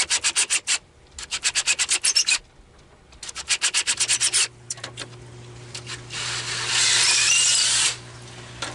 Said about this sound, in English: I'm going to take a drill bit and drill around either side of it